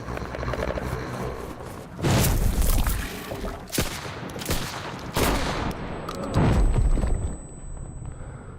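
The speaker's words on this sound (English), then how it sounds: "We're doing all this shooting over there." Video game gunfire, a dense volley of shots in bursts with heavy low booms around two, five and six seconds, loud and continuous throughout with no voices over it.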